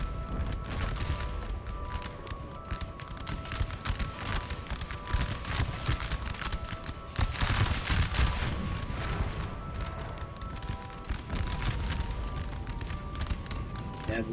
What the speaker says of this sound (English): We've got a French unit firing on some broken cavalry running away